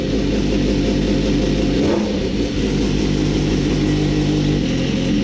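A steady engine drone rumbles continuously at close range, with a low throbbing hum and a brief dip in the middle.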